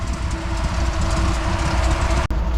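A 454 big-block V8 swapped into a Honda Civic idles steadily, a loud continuous low rumble filling the scene with no talk, a brief dropout near the end.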